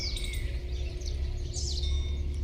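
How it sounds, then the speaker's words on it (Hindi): Outdoor birdsong at a garden, with scattered high chirps and tweets over a steady low hum of background noise; the calls are moderately faint and there is no talk. "कितना शानदार नज़ारा है चिड़ियों की चहचहाट में।"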